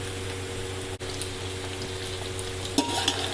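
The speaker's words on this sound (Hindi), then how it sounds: "चिकन और प्याज को थोड़ी देर भूनेंगे।" Chicken, 1.5 kg, frying with browned onions in a pot for a chicken and egg biryani: a low, steady sizzle with faint stirring scrapes and a brief clatter near the end, no talk.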